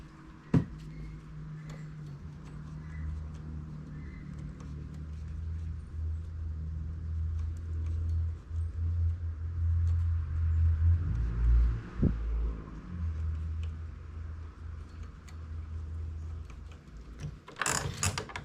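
A knitting machine carriage slides to the left while a tucano keychain is knitted. It gives a steady mechanical rumble and ratcheting whir that swells midway, with sharp clicks at the start and end.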